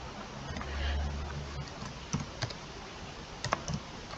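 A glitching computer keyboard being typed on, giving sparse, irregular clicks and taps over a low hum, with a few sharper keystrokes spaced apart.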